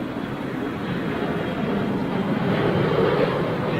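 A big jet aircraft departs, a broad sustained engine roar that swells slightly louder toward the end, with no voices.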